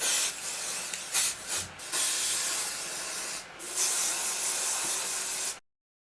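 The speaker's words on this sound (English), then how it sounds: "I'm going to use some of the Got To Be hairspray actually." A Got To Be hairspray can sprays onto short 4C natural hair in several close, loud hissing bursts with brief gaps, then stops abruptly.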